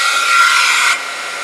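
A heat gun blows a steady, close, loud whoosh as it melts embossing powder, dropping slightly in level near the end.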